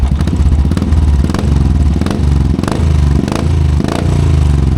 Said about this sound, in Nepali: this is my bike bullet 350